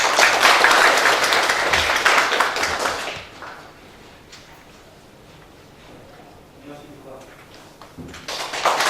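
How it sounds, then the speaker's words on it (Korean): Audience applause in a provincial council lecture hall as an election law lecturer is welcomed, dense clapping for about three seconds that then dies down to quiet shuffling and taps, with clapping picking up again at the end. "큰 박수로 맞이해 주시기 바랍니다."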